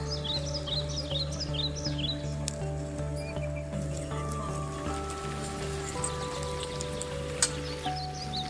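Steady rain patters on surfaces during an outdoor fish grill, a dense hiss running throughout while birds chirp faintly in the background and a low hum underlies it.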